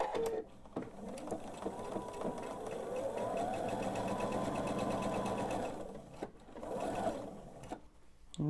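A sewing machine runs a quarter-inch seam on a beach ball quilt top, whirring steadily for several seconds. Quieter handling sounds come before and after the run.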